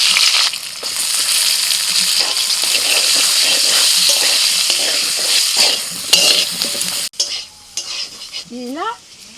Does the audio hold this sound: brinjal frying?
yes